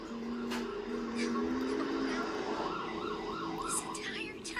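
An ambulance siren wails in a rising and falling pattern, fairly loud and sustained over a steady background hum and some traffic noise.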